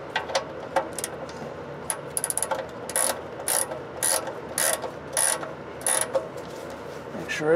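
A ratchet tightens the oil drain bolt on a GM 3.3 V6, sounding in quick bursts of clicking with short pauses between them, close and distinct.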